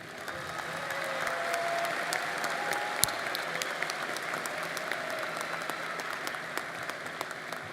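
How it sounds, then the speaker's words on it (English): Spring commencement crowd in a large hall applauds doctoral graduates, a steady, distant wash of clapping with a few sharper nearby claps standing out, sustained without talk. "Let's applaud our doctoral graduates."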